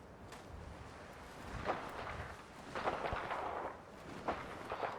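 Distant gunfire in the Fallout 4 video game, a few muffled cracks and rumbling bursts scattered over a noisy background of ambient wind.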